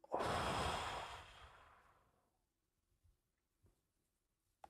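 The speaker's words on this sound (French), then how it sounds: "Une respiration. 1, 2, 3." One long, deep exhale rushes out loud and close, fading over about two seconds, followed by quiet and a few faint soft breaths.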